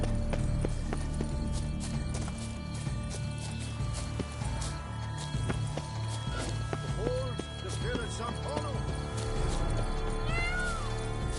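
Horse hooves clip-clop in the Witcher 3 Blood and Wine video game, steady gait sounds mixed under game music and voices that talk throughout.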